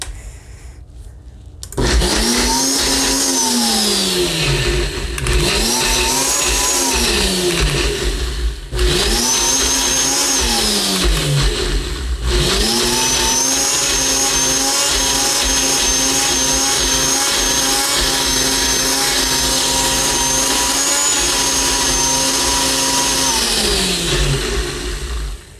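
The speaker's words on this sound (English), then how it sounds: "I'm just gonna screw this on and blend it for probably about 30 seconds or so" Countertop blender whirring through a Greek feta dip, loud and close, with three short pulses whose pitch dips and recovers before a long steady run of about thirteen seconds; no talking.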